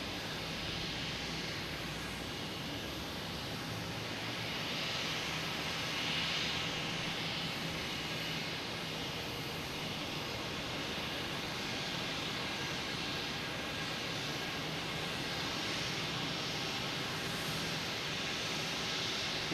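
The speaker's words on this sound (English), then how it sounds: "We got a JetBlue pulling into the alley here, making all kinds of racket." A JetBlue jet airliner taxis at Boston Logan Airport, giving a steady, continuous engine roar and whine that holds at a constant level throughout, moderately close, with no talk.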